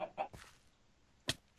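Minecraft chicken clucking after being struck by a snowball: a few short, close clucks in quick succession, then a pause and one more sharp squawk, with no talk.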